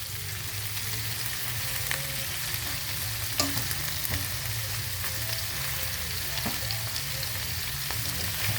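Sausages sizzling in a frying pan, a steady, close crackle and hiss with scattered sharp pops from spitting fat throughout, and no talk over it.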